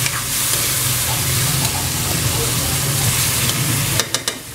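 Tilapia in a savoury sauce bubbles in a pan with a steady close sizzle and soft bubbling, and a few clinks come near the end.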